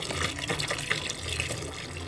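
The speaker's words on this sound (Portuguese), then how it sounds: "tô colocando a minha água sanitária caseira, tá? Vou botar 2 litros." Homemade bleach is poured into a liquid soap mixture, giving a steady gushing, splashing flow of liquid that runs continuously for about two seconds, close by with no talk.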